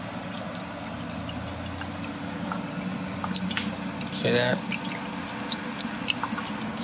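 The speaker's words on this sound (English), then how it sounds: "That's not bad output either as far as the bubbles are concerned." Gas bubbles fizz and gurgle from a brand-new hydrogen cell in a fog machine, a soft steady bubbling with a brief louder burst near the middle, while a voice speaks briefly.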